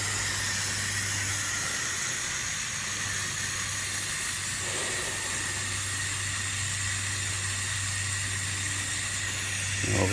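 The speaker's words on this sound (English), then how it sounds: "Plenty of fog coming out." A ground fogger fed through a homemade ice box chiller pushes out low-lying fog with a steady, broad hiss that carries on unbroken over a low constant hum.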